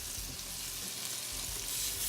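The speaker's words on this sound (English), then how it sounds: "You can see the sizzle kind of like drifted off there." Shrimp scampi sizzles steadily in a pan with white wine and red pepper, a soft, even crackling hiss heard close up with no talking.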